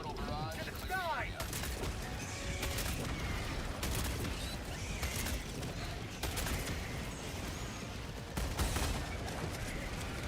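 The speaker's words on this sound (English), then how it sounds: "Firing orbital barrage." An orbital strike barrage pounds down in a PS5 video game, with dense overlapping blasts and rattling bursts over ten seconds while players talk over the chaos.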